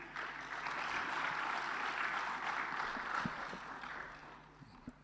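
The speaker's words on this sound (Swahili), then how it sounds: "Makofi tena mengi." Applause at a Tanzanian state ceremony as the President steps up to receive the Controller and Auditor General's report: a steady, fairly distant wash of clapping for about four seconds that fades out near the end.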